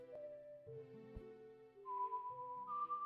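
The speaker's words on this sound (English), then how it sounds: "I think she's actually just whistling that." Impa's whistled rendition of Princess Zelda's lullaby in The Legend of Zelda: Ocarina of Time Master Quest, a soft, clear melodic line of sustained, gliding notes over quiet game backing tones.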